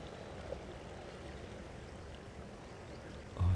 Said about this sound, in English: Can you hear the water?